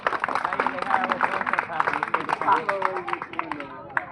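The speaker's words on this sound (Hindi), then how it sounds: "ताली बजा दो" Villagers gathered around a captured snake clap their hands in scattered, uneven claps, with excited chatter and voices running over the clapping throughout.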